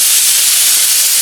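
Crushed garlic and tomato dropped into hot oil with already-popped mustard seeds, making a loud, steady broadband sizzle that fills the whole moment with no talking over it.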